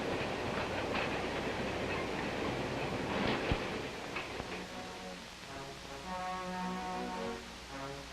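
A train rolls along the rails, steady rumbling with a brief metallic clank, then brakes squeal in sustained high tones as it slows into a station.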